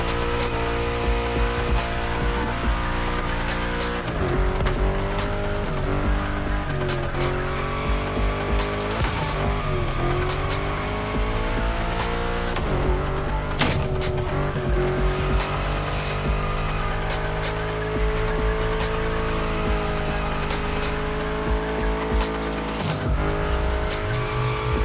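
A car drifts through bends in the video game The Crew Motorfest, its engine holding a steady drone as repeated tire squeals and skids rise and fall, loud and close throughout.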